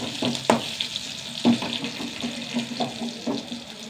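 Onions with curry leaves frying in a pan, a steady hiss and crackle with occasional louder pops and scrapes of stirring, close and continuous with no talk.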